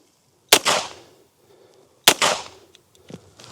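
Two sharp shots from a Fort-12R less-lethal pistol fired at 5 metres, about a second and a half apart, each a loud crack with a short echoing tail, then a faint clack at the end.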